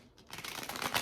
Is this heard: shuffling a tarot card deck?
yes